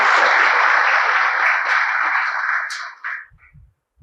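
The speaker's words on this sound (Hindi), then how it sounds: "तो मैं चाहता हूँ कि इसके लिए एक बार जोरदार तालियां हो जाए सर की टेस्ट सीरीज के लिए" An audience at a motivational event applauds in a dense, even wash of clapping for about three seconds, which then cuts off into near silence.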